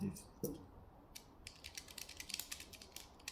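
Buttons clicking on a Steam Deck fitted with a modified split-style D-pad, a run of small, quiet plastic clicks and taps in quick irregular bursts, close up, with no talking.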